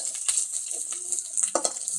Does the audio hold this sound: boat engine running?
no